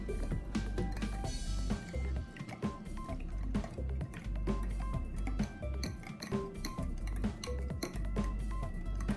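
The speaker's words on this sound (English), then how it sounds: "Whisk it all together." Metal whisk clinking steadily against a bowl while yum yum sauce ingredients are mixed, a busy run of close clinks and taps with faint liquid sloshing throughout.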